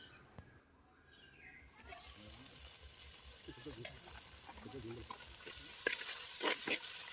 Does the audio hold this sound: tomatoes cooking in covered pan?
yes